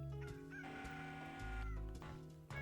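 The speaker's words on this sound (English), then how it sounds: "Oh, there's the rooster." A rooster in the video game Chulip crows in a drawn-out, harmonic cock-a-doodle-doo with clucking accents, faint and heard alone.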